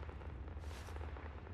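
Gatling gun firing in Fallout 76, a brief, dense burst of rapid booming shots that merge into a low, rumbling roar, fairly faint.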